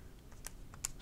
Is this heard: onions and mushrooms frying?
no